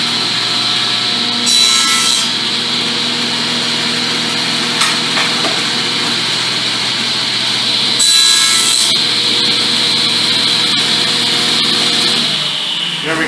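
Wood being trimmed bit by bit to fit a notch on a Jeep Nukizer build: loud, close rasping saw strokes rub back and forth steadily, with brief bursts of harsher scraping.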